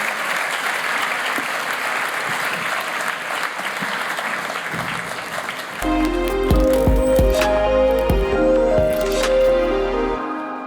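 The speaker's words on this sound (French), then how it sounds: "Merci aux intervenants, je vous invite à les applaudir effectivement" Forum audience applauding the speakers after a panel session: a dense, steady wash of clapping for about six seconds, then music with a deep bass line comes in over the continuing applause.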